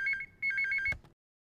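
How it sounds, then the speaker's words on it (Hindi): A telephone rings in a household scene from a Pakistani drama, with two bursts of a bright electronic warbling ring, the second cut off by a click as the call is answered, then silence. "अरे ये किसका फ़ोन आ गया अब"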